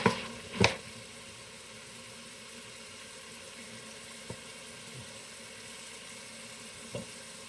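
Canola oil sizzles faintly and steadily in a stew pan. A couple of sharp clatters come at the start, followed by scattered small clicks.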